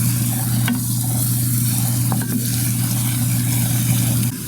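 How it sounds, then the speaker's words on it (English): Onion and garlic sauté in a pan with a steady, fairly loud sizzle over a constant low hum, broken by a few light clicks of stirring. "I've been just sauteing this onion and garlic for maybe 2 minutes"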